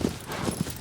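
Horse hooves clip-clopping in the video game Shadow of the Colossus, a few spaced, soft thuds in a short walking rhythm, fairly close and moderately loud.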